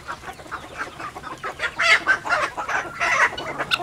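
Chickens on a farm cluck in a busy overlapping flock, with repeated short clucks and squawks growing louder and denser toward the end, heard fairly close and with no talking.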